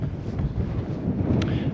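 Steady, strong wind roaring and buffeting a microphone without letup at a wild camp in Scotland, a low continuous rumble with no pauses between gusts.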